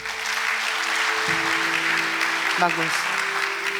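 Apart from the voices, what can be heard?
congregation applauding in church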